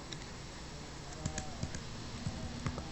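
Keys clack in quick irregular bursts as network switch commands are typed on a computer keyboard, fairly close and moderately loud over a faint steady room hum.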